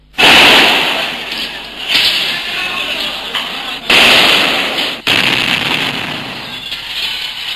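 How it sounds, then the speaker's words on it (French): Offensive grenade blasts during a street riot in Algeria, sharp loud cracks at about half a second and again near four and five seconds, each followed by a noisy roaring wash, with a voice present amid the din. "Un manifestant vient de lancer juste en dessous de moi, je l'ai vu à 10 mètres à peine, une grenade offensive."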